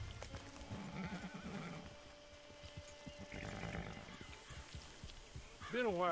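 In Red Dead Online, a horse clip-clops at a moderate pace under a quiet voice, then whinnies loudly and close at the end.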